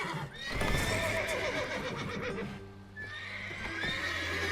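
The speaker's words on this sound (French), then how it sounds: "Si je ne calme pas les chevaux, ils vont réveiller les gardes." Horses in The Witcher 3 neigh and whinny loudly in a long, shrill cry, with hooves clopping beneath. A second, shorter whinny follows near the end of the clip.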